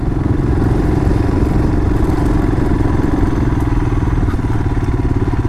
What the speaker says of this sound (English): I'm in second gear at the moment, and it's just pulling its way up the hill.